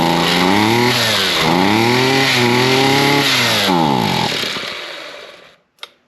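An old engine in a shop fires and revs after a half-choke adjustment, its pitch climbing and falling in repeated surges, then dying away to silence with a brief clunk at the end, loud and close, with a voice over it.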